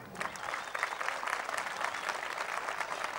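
Crowd at an agency event clapping steadily in a continuous burst of applause, moderately loud and even throughout, with a faint murmur of voices underneath.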